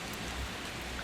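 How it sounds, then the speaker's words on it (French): Steady rain falls on a September morning, a soft continuous hiss of drops on surfaces, faint and even throughout with no voices. "Ce matin, je me suis réveillée et il pleut."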